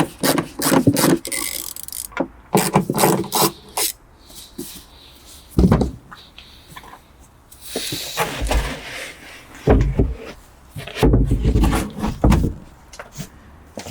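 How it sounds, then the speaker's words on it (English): A grommet puller pries plastic trim clips loose on a BMW F10, giving a series of sharp close clicks, pops and scraping rattles in irregular bursts with brief pauses between. "Using my favorite grommet puller, 4 clips to go, and this should come out."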